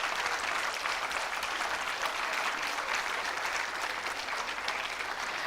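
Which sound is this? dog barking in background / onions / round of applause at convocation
round of applause at convocation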